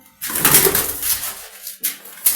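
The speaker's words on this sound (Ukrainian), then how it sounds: "Який у нас умний голуб, да, Остин?" A pigeon close by gives a short soft coo amid rustling and fluttering movement, with brief pauses and a sharper sound near the end.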